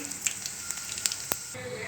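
Cumin seeds and chana dal tempering in hot oil in a pot on the stove, producing a close, soft sizzle dotted with a few sharp crackling pops over about two seconds.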